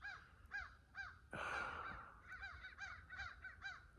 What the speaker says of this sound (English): We've got crows out here apparently.